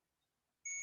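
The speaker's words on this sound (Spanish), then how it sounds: "si tengo un multímetro que trae zumbador o buzzer, pues va a hacer el sonidito." A multimeter's continuity buzzer sounds while a microwave oven fuse is tested, a single sudden steady electronic beep that starts after a near-silent pause and holds to the end.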